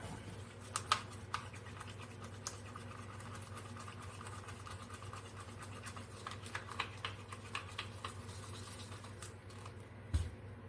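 Silicone is stirred into small cups of acrylic paint, making quiet, rapid scratchy scraping strokes over a low steady background hum, with no talk.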